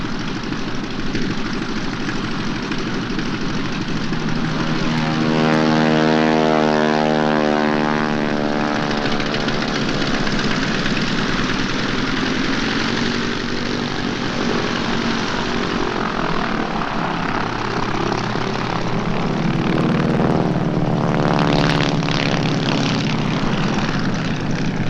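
A propeller airplane on an airmail pickup run drones loudly overhead for the whole span, its engine pitch sweeping as it passes and then returning, with no one speaking.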